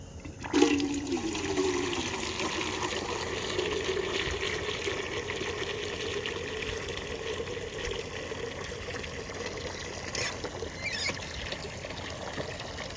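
Water pours steadily into dog water bowls at a kennel, a continuous splashing fill that runs unbroken from start to finish with no talking.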